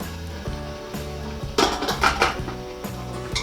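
A metal pot of gabi suman set into a steamer, heard as a burst of clattering metallic clanks and scrapes against steady background music.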